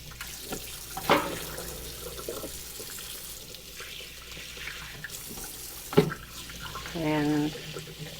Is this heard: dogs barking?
no